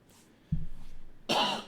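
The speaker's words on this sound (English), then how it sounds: "Excuse me, I'm coughing up a lung." A man coughs, one low hacking burst followed a moment later by a louder, harsher cough, close and alone.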